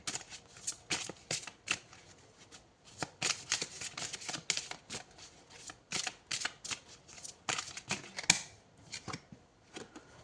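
Tarot cards shuffled and drawn by hand, bursts of crisp riffling and flicking that come in irregular clusters and are close up and quiet, with brief pauses and no talk.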